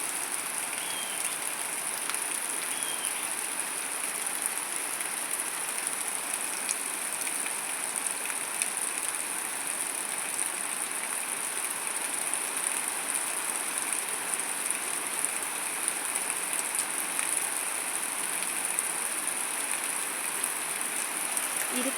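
The first rain of 2025 falls at night as a soft, steady, even hiss with no distinct drops, staying faint and constant throughout.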